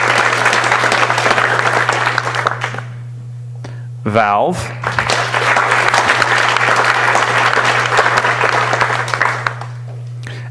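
A conference audience at a closing ceremony applauds as sponsors are read out, a broad, sustained wash of clapping with a steady hum beneath, briefly broken by a spoken sponsor name before continuing.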